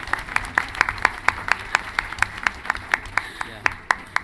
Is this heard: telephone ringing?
no